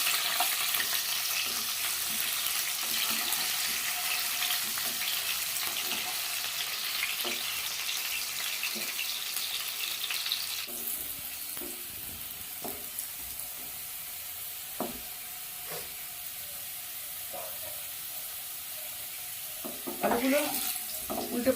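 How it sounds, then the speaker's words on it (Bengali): Continuous frying sizzle of turmeric-coated potatoes in oil with occasional clinks and stirring knocks, running steadily for a long stretch; the sizzle quiets partway through. "হলুদ মাখানো আলুটা এবার ভেজে নেব"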